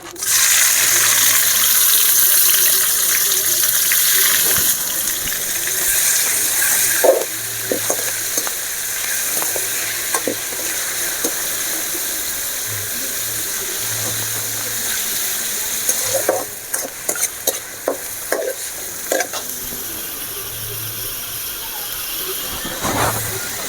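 Mashed onion and tomato hit a hot pan with oil for Bahrain-style chicken chukka, a loud, steady sizzle and hiss punctuated by scraping stirs and clinks, with no one talking.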